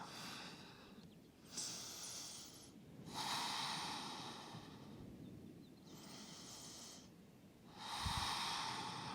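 Deep, slow breathing during a yoga exercise: four long, airy breaths rise and fall in a steady rhythm, close and fairly soft, with no talking.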